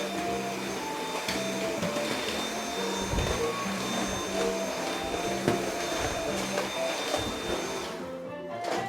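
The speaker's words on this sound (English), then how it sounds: "Throw everything on the floor and Hoover it up." A Hoover vacuum cleaner running indoors, a loud, steady motor whine with a high tonal hum, plus bumps and rattles as debris is sucked up off the floor, stopping abruptly near the end.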